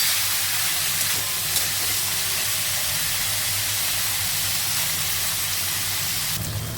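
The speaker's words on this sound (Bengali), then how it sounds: "এবার এই মোচাটাকেও আমি খানিকক্ষণ কষিয়ে নেব, খুব ভালোভাবে কষিয়ে নেব।" Banana flower sautéing in a pan, giving a steady, loud sizzling hiss that runs unbroken from start to end with no talk.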